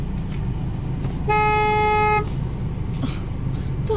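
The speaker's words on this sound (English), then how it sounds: "It's seriously a red light, and this guy is honking at me." A car horn sounds once in a steady tone lasting close to a second, while the driver waits at a red light. Engine rumble and road noise from interstate-area traffic continue underneath.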